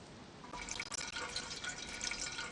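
Water runs steadily in the DayZ video game on PS5, a continuous hissing, splashing flow close by with a few brief dropouts, and no voices over it.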